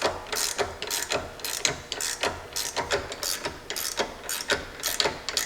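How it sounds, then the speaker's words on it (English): Two 5/8 clamp bolts on a Jeep axle collar are tightened with a ratchet, producing a steady run of quick, close, rhythmic clicking strokes with no voices. "the last thing we got to do is tighten up our 2 clamps over here on this collar"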